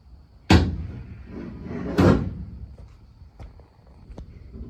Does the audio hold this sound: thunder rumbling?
no